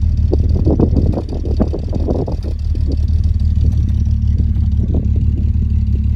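A car engine with a suspected head gasket fault runs up close with a low steady drone, broken by irregular uneven pops and stumbles from a slight misfire, clearest in the first few seconds.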